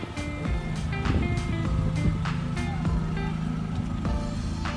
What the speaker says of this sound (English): Drives like it did before, just rubbing the tyres on the arches.